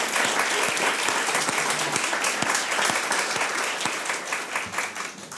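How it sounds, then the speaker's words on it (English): A room full of people claps warmly for a former dean, B Smith, at a university gift announcement at Mizzou; the crowded applause holds steady with distinct individual claps before gradually thinning. "Can we just give you a clap?"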